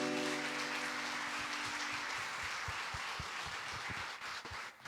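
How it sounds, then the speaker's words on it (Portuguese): Church congregation clapping in praise, a dense sustained wash of many hands close by, with a sung or held tone fading under it early and the applause thinning near the end. "Aplauda o Senhor, irmãos, pois Ele é digno."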